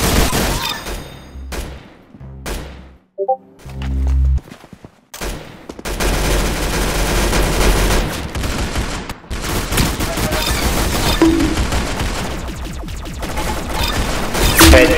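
Gunfire in the video game Arsenal rings out in dense, loud bursts, sharp shots stacking into a sustained fusillade after a few scattered reports and a short lull, with voices faintly present.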